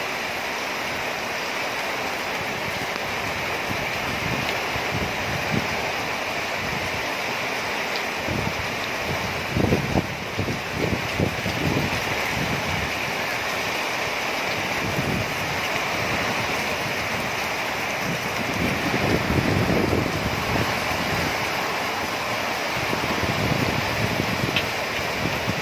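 Typhoon Ulysses winds and waves roar outdoors in a steady, loud broadband rush with surging gusts and splashing bursts, lasting throughout with no voices.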